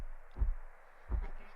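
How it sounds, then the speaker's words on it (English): A heartbeat ASMR recording gives two deep, soft thumps about three-quarters of a second apart, close and muffled, playing under a tabletop game session. "You guys are going to be listening to Heartbeat ASMR the whole time."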